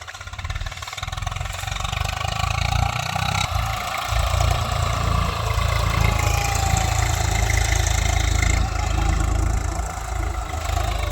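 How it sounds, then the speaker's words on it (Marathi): A tractor engine rumbles in close and steady, a loud continuous low drone lasting throughout at a farm where black gram is being harvested, with no talk over it. "ट्रॅक्टर आलाय."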